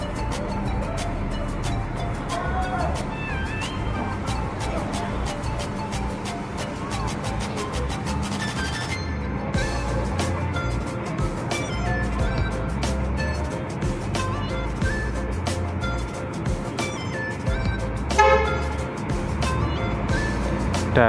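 A Harapan Jaya bus pulls out of Tamanan terminal in Kediri bound for Surabaya, its engine rumbling close and steady amid busy station noise, with a brief horn-like burst near the end.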